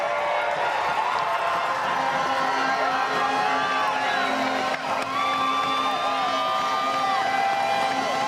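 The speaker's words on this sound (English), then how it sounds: "You can hear the crowd." Crowd cheering and whooping at a Red Bull Hardline mountain bike event in Tasmania, a loud continuous roar of voices with rising shouts throughout.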